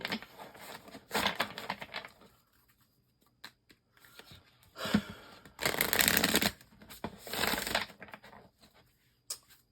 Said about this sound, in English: some of you guys like to hear the shuffling